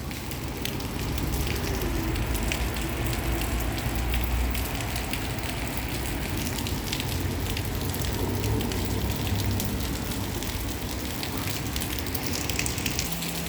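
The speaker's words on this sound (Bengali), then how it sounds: "এখন যে বইতেছে, যে বৃষ্টিগুলো হচ্ছে, এটা হচ্ছে আল্লাহর রহমতের জিনিস।" Steady heavy rain falls in Dubai, a dense continuous patter and hiss of drops on surfaces that stays loud and even throughout, with no talking.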